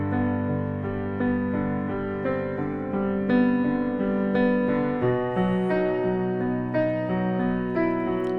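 A piano plays the intro to a song, adding suspended sus4 notes over each chord in a steady, sustained progression, heard alone and close.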